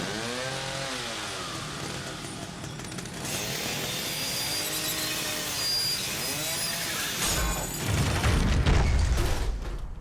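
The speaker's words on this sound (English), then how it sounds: "Chainsaw cutting through a chain." Chainsaw from The Evil Within cutting through a chain: a loud, steady motor whine that swells and dips in pitch in repeated sweeps, ending in a heavier, rougher grinding burst.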